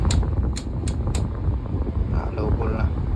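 Astron air conditioner running in cool mode after a DIY cleaning, giving a steady fan and airflow whoosh, with a few sharp clicks at the start and a voice speaking over it.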